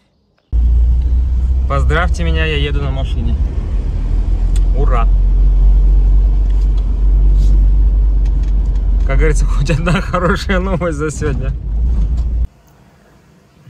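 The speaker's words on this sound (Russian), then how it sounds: "Поздравьте меня, я еду на машине." Steady low engine rumble from inside a moving car, continuous under a man's speech, cutting off abruptly near the end.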